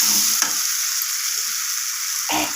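Potatoes sautéing in oil in a pan for a spicy potato-capsicum dish, giving a continuous hissing sizzle with a few scraping stirs, close and steady with no talk.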